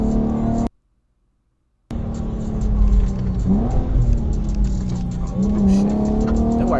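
An Infiniti G37 or Q50 with a VQ engine accelerates, its steady drone rising in pitch twice as it revs, loud and continuous after a brief gap of silence.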